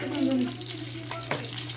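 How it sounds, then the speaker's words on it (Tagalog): Broth for pesang bulig, a Kapampangan fish soup, simmers in a pot, giving a steady bubbling and hissing hum that is quiet and close, with a low background drone and one brief clatter. "Yan, kumukulo na po."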